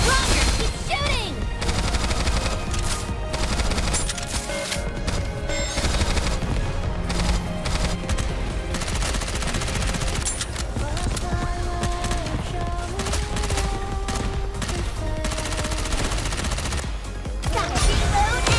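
Sustained bursts of automatic gunfire from the anime-style shooter Goddess of Victory: Nikke, crossed with a Stellar Blade event, rattle continuously through nearly twenty seconds over a dense game soundtrack.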